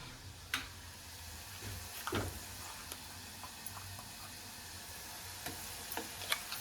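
Dry ground masala paste for misal sizzles quietly in a pan, a steady soft frying hiss broken by occasional clicks and taps of stirring.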